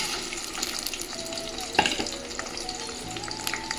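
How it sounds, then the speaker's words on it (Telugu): Chopped onions fry in hot oil in a pan while making country chicken (naatu kodi) biryani, giving a steady close crackling sizzle with one brief sharper clatter partway through. "ఇందులో ఉల్లిపాయ వేయించుకుందాం"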